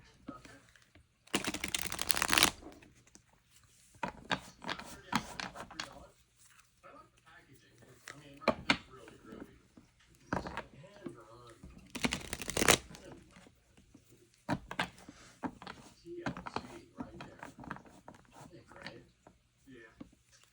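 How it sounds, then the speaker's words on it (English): Tarot cards are shuffled repeatedly in loud riffling bursts, with softer rustles and handling noises between them while a person talks intermittently. "I'm just going to shuffle this deck here."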